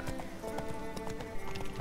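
A horse trotting in The Witcher 3, steady hoof clip-clops in a quick even rhythm over a dense game ambience and music bed, continuous and fairly close.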